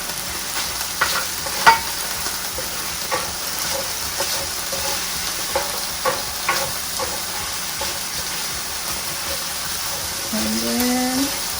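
Shiitake mushrooms stir-fry for fried rice with a steady sizzle and hiss, broken up by occasional scraping stirs and light clinks. A brief higher tone rises near the end.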